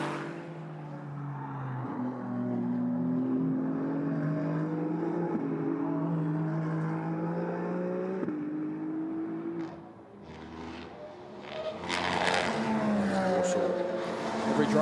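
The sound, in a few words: Ferrari Challenge race cars at Spa-Francorchamps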